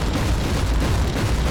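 Dense, rumbling explosions in the Warhammer 40k Inquisitor Martyr game form a continuous loud wall of blasts and crackling debris, with no gaps over the short stretch.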